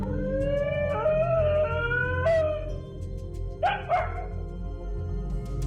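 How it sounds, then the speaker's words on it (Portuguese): A dog howls with a long wavering cry, then gives two sharp barks, heard fairly close over a low background rumble. "acompanhados de latidos de cachorro"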